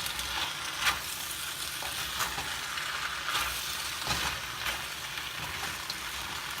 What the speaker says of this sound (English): I'm just going to keep stirring this a little bit on high heat.